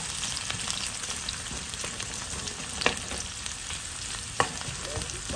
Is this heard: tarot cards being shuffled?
no